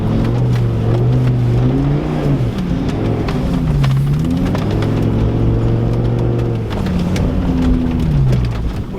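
Car engine revving and accelerating hard on snow on BFGoodrich T/A KM3 winter tires, pitch rising and falling in repeated surges, loud and close throughout.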